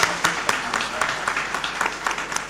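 Conference audience applauding at a business event, with a steady patter of clapping and sharper individual claps standing out, while voices mix in underneath.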